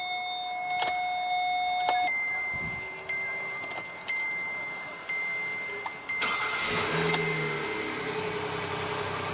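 A 2015 Kia Sedona minivan with a 3.3 liter V6, push-button ignition, cranking and catching, then idling steadily up close, preceded by electronic chimes and several short whirring mechanical pulses.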